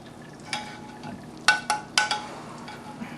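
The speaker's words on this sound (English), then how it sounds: "All we do now is just spoon this over the fish." A spoon scrapes and clinks in a pan while brown butter lemon sauce is ladled over tilapia, a few short distinct taps over a soft background sizzle, close and quiet.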